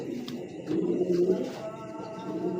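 Racing pigeons at a breeding loft give low, throaty coos, several overlapping calls rising and falling close by, with faint background chatter of other birds.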